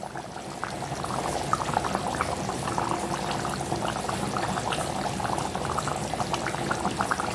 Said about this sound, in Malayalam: ശകലം പച്ച വെളിച്ചെണ്ണയും കൂടെ ഒഴിച്ച് കൊടുക്കാം.